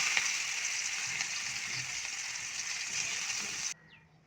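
Onions frying in a pan alongside dried chillies, a steady hiss of sizzling oil at close range that stops abruptly near the end.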